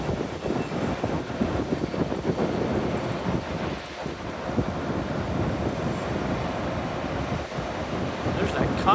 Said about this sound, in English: but boy, did it get windy.